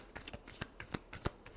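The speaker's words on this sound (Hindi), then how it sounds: "Last shuffle." A deck of tarot cards is shuffled close up in quick riffling bursts, a few crisp slaps and flutters in under two seconds, with no voice.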